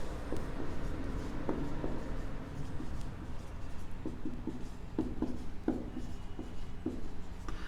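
Marker or chalk writing notes on a classroom board during a biology lesson, soft scratchy strokes in short bursts over a steady room hum, fairly close.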